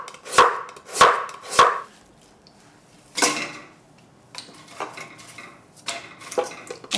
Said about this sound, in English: Radish, just cut very thinly.